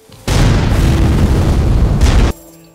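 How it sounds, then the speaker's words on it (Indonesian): A loud, close explosion from a war film about a battle on the Indian border, a single massive boom sustained for about two seconds before cutting off abruptly. "Sehingga dia pun memilih untuk menggunakan peledak."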